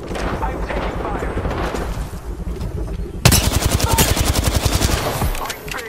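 Rapid automatic gunfire from the video game Apex Legends erupts suddenly and loud, a dense stream of evenly spaced shots that continues to the end, preceded by a busy rumble of battle noise and game voices.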